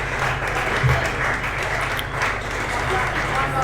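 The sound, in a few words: cricket crowd clapping a batter's half-century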